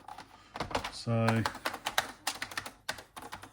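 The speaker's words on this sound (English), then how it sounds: "quite a nice feeling keyboard actually" Rapid clicking keystrokes on the keyboard of an Oril BK-08, a Ukrainian ZX Spectrum clone computer, tapped in quick irregular bursts up close, with someone briefly speaking over the typing.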